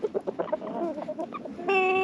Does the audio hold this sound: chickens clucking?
yes